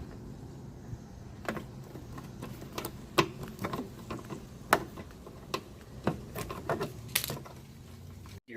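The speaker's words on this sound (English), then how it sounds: "Take the 3 screws off." Screws being backed out of a Trufiber carbon fiber splash shield on an LG48 stock car: a string of small, sharp clicking and ticking taps at an irregular pace, close and fairly quiet, with no talking.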